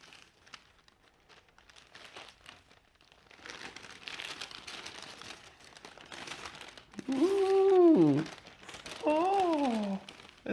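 Crinkling and crumpling of handmade paper as a handmade gift, a shirt, is unwrapped, steady rustling through the clip while people talk and laugh nearby.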